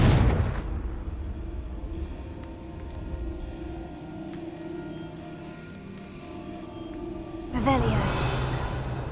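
Confringo fire-spell blasts in the game Hogwarts Legacy: a heavy booming burst opens, a low rumble lingers, then a second explosive blast hits near the end, with speech present.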